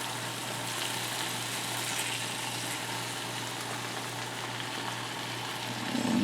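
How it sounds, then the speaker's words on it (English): Burgers sizzle on a hot grill in a steady, even hiss over a low hum, swelling slightly louder at the very end; no one talks. "And I will flip the burgers one last time."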